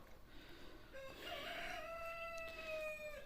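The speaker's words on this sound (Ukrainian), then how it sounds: "Півні співають, їм нормально." A rooster crows once on a frosty winter day in a village, a long rising then held call, fairly clear against a quiet outdoor background.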